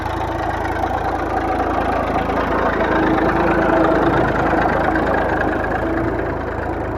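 A steady, loud diesel tractor engine chugs continuously at constant revs while pulling a cultivator through soil, a dense rumbling drone with no voices.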